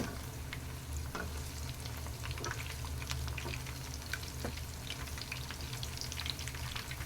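Potato pieces coated in masala for veg 65 fry steadily in hot oil, a continuous dense sizzle with occasional crackles and faint stirring, close and even throughout with no voices.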